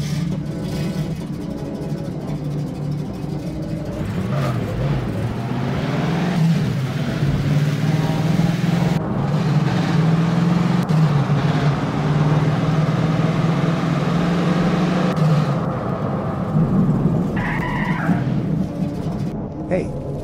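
A car engine hums steadily in a continuous mid-level rumble, with a slight rise in revs partway through as the vehicle drives along.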